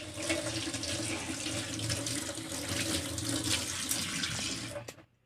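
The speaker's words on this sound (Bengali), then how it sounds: "হাতটা আমি একটু ধুয়ে নেব।" A faucet runs steadily as hands are washed under it in a kitchen, a close, constant rush of water that cuts off abruptly near the end.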